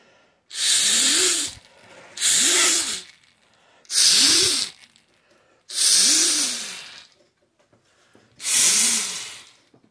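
A 3D printed siren rotor is spun up in five separate bursts, each a close breathy rushing hiss with a rising then falling whir, separated by brief quiet gaps.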